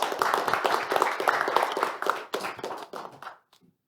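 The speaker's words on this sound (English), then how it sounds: "So I'd like to give Jeff a big round of applause for what he's done for both countries." An audience at a U.S.–Korea business seminar applauds in a dense burst of clapping that thins into scattered claps and fades out after about three seconds.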